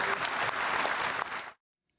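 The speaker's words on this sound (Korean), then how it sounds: "여러분 다시 한번 큰 박수를 부탁드리겠습니다." Audience applause at a Korean official event honoring a departing Joint Chiefs chairman, with a burst of steady clapping from a crowd that cuts off abruptly after about a second and a half, leaving silence.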